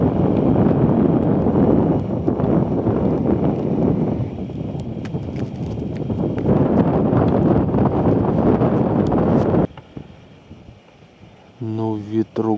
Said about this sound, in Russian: Ну, ветруган, вообще сил нет, просто сносит нафиг.